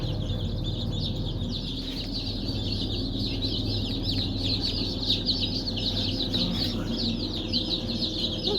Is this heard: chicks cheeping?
yes